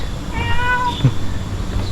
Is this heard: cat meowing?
yes